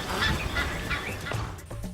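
Geese honk repeatedly, loud and close, their calls overlapping in a noisy, uneven chorus.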